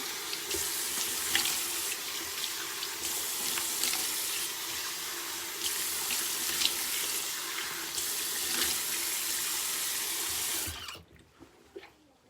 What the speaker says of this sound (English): And then I rinse with nice warm water